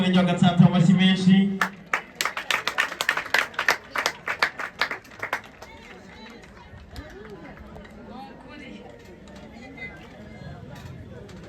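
Applause at a community gathering in Gatsata sector, greeting the sector's executive secretary: a short tonal sound gives way to a dense burst of many hands clapping, which then thins into a softer murmur of crowd noise.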